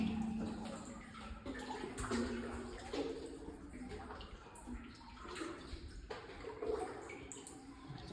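Wading through 3-4 feet of cold flood water inside an abandoned copper mine over 120 years old, with continuous close sloshing and churning splashes echoing in the enclosed space.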